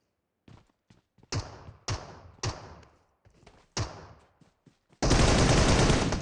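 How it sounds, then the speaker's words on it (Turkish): Gunshots in PUBG Mobile on the Livik map, starting as scattered separate cracks and sharp single shots with short gaps, then breaking into a loud, sustained burst of automatic fire at the end. "İki kişi birden sıktınız."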